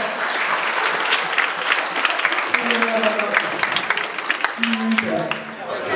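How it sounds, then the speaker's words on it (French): An audience applauds loudly, many hands clapping in a continuous dense roar while voices call out over it near the middle and end. "On peut les applaudir très très fort."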